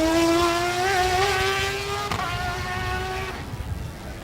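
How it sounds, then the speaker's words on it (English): Race cars at a Jamaican circuit accelerating hard, a loud high engine whine climbing through the gears and then fading as they pass, with no voices. "Look at that car go as they go through the Pepsi airpit."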